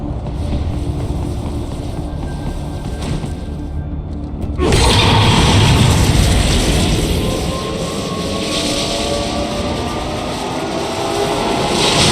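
Freight train rumbling through an underground railroad in Metal Gear Rising, a dense, loud low roar that swells abruptly after a quieter stretch and sustains with metallic rattling, no voices.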